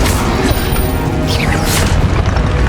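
An Incendio fire spell cast in the Hogwarts Legacy video game, a loud rumbling whoosh and boom with crackling, sweeping magical effects sustained over nearly three seconds of busy game sound.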